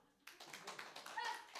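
A children's group at a church service claps briefly, a short burst of quick overlapping hand claps after a soft lead-in, fairly faint and close.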